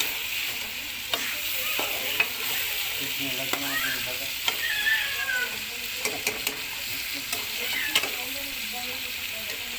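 Chicken karahi frying in a pan and stirred until browned, a continuous loud sizzle broken by repeated scraping and clinking strokes of a spoon, close up with no talking.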